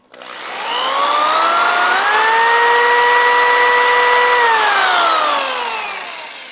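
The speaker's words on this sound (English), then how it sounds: "I could run this drill, I'm pretty sure" An electric drill powered from a portable emergency battery spins up to a high whining pitch, holds steady for several seconds, then winds down. It sounds loud and close.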